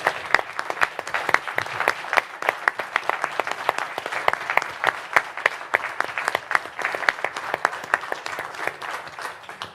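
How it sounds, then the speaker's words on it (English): Audience applause at a WWII remembrance event honoring panel guests, a dense, steady round of many hands clapping in a room, loud and sustained throughout. "please join me in a round of applause for our guests this morning"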